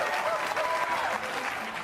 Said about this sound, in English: Listen to the crowd here outside Detroit.